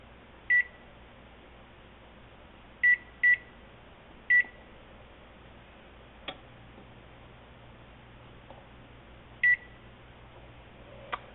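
An oven's electronic timer gives short, crisp beeps, single and paired, spaced irregularly as it is set for fifteen minutes, over a low steady hum with faint ticks.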